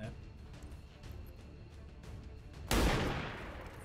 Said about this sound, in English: Take the shot anyway